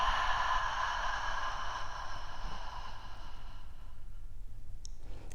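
A single slow, steady exhale of breath during a relaxation breathing exercise, close and soft, trailing off gradually into quiet.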